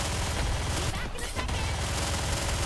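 Rapid gunfire from a video game rattles in dense bursts, loud and continuous, mixed with other game sound.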